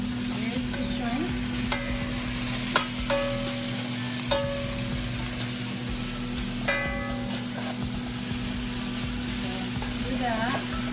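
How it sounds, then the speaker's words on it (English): Shrimp fries in a pan with a steady soft sizzle over a constant hum, punctuated by several sharp utensil clicks and scrapes against the pan. "I like to fry it for a few minutes"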